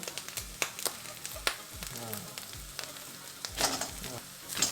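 Rice noodles tossed and stir-fried in a wok, with a steady sizzle broken by repeated scraping and clanking strokes of a spatula, fairly close and moderately loud, no talking.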